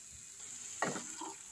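Potatoes tipped into a pan of hot spiced oil: a faint, quiet background hiss, then one short sizzling burst as they land.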